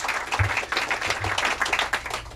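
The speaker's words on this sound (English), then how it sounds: "I think we should all applaud them." An audience applauds at a bookstore author talk, a brief burst of clapping from a nearby crowd, moderately loud and steady, with a few low thumps.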